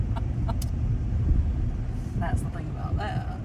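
A car drives a winding mountain road between South Carolina and Tennessee, giving a steady low rumble of engine and tires inside the cabin with a few faint clicks, while people talk over it.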